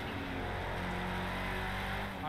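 Car engine in a video game drives off, a continuous loud motor roar with a steady pitch, mixed with background game noise.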